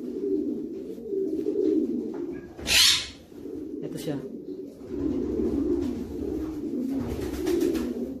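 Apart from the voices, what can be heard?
breeder pigeon hen cooing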